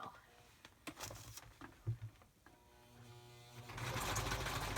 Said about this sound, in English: into the arm of the sewing machine right here